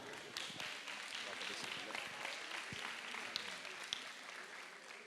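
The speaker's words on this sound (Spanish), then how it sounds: "Y un fuerte aplauso para Petaca y para sus dos ranqueadores." Applause breaks out for a dog and its two handlers at a Spanish dog-ranking event, a steady wash of crowd clapping holding at an even level for several seconds, with voices mixed into the noise.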